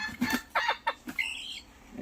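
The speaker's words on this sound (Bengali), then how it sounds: "এই মুরগিটা খুবই সুন্দর একটা মুরগি" A hen clucking in a short series of sharp, fairly close calls, ending with a drawn-out cackle, with no talk.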